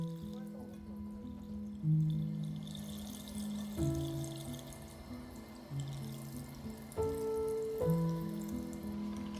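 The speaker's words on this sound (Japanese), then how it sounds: "浸し汁をざるを使いながら流し込む。" Soaking liquid for spinach poured through a strainer into a container while preparing nikujaga, a soft trickling and splashing flow with a faint clatter of utensils in a quiet kitchen.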